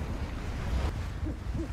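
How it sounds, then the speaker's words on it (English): An owl hoots in the snowy wilderness of the video game Never Alone, a couple of short low hoots near the end over a steady rush of wind and surf-like noise. "I see the owl."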